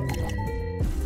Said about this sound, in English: There's nothing left to do except water all the plants that need it.